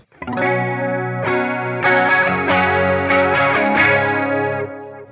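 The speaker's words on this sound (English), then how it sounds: "you can hear it quite clearly that I'm using a chorus effect" Electric guitar chords through a Line 6 Helix ring out with a shimmering, swirling chorus effect at about 40%, several strums sustaining into a lush, wavering wash of sound.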